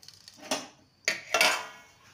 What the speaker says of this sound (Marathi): आता हे आपण मिक्स करून घेऊयात.